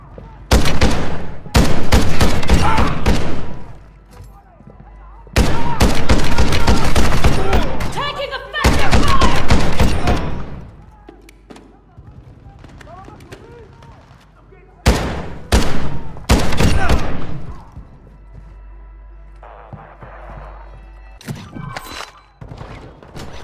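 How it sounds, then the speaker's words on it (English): Gunfire in Call of Duty DMZ, loud close bursts of automatic fire and heavy impacts that come in several clusters with quieter pauses in between, while a voice speaks briefly. "Taking effective fire."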